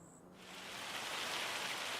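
Rain in Farming Simulator 25 swells from near silence into a steady, soft hiss of falling water that holds evenly to the end.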